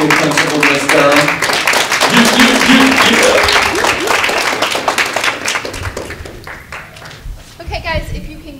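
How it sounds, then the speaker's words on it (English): Crowd clapping rattles along loudly under cheering and chatter, then gradually thins and fades as a few voices carry on near the end. "a big round of applause"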